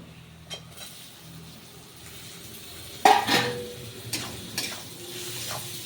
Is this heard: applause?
no